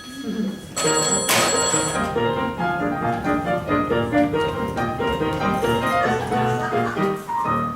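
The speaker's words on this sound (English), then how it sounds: "I don't want this number being ruined by a ringing telephone." A telephone bell rings steadily over loud music and voices.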